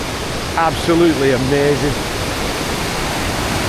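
The River Trent roars as a steady, loud wash of rushing water up close, with someone speaking briefly over it.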